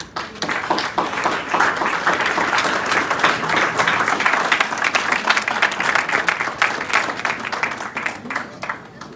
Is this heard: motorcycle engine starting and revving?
no